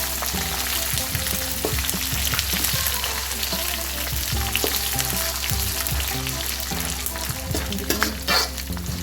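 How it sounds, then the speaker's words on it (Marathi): Peanuts and chivda ingredients sautéing together in a pan over a low flame, a steady close sizzle with scraping stirs and occasional clinks of the spoon against the pan throughout. "सर्व साहित्य मी एकत्र परतून घेते"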